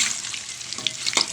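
Camote frying in a pan with sugar as it melts, a steady close sizzle with crackling pops and a few stirring scrapes near the end.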